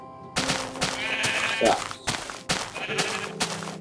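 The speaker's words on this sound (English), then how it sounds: "Shut up, sheep." Sheep bleating inside a Minecraft-style survival video game, several tonal bleats over busy in-game sound and clicks, with a few short spoken words.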